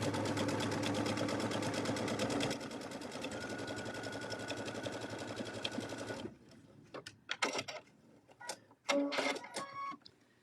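Twin-needle sewing machine stitching in a fast, steady mechanical rhythm for several seconds, then stopping, followed by scattered clicks and handling noises.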